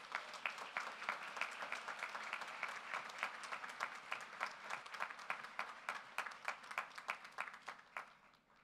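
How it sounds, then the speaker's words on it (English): An audience at a 2019 community college graduation ceremony in St. Lucia claps warmly for a welcomed guest, a steady, moderately distant round of applause that holds for several seconds and then begins to thin out. "welcoming Dr. Keith Nurse as we give him a warm St. Lucian applause"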